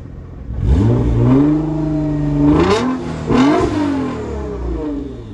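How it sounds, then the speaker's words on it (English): Nissan GT-R R35 engine revving on a test drive, two strong rising revs swelling and falling back, loud and close, with the engine settling to a steady drone between pulls. "I'm gonna give you a test drive on this car to see how it feel"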